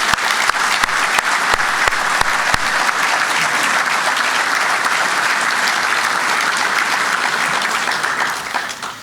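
An audience at a men's hockey awards celebration applauds in tribute, dense sustained clapping from many hands that fills the room and tapers slightly at the end.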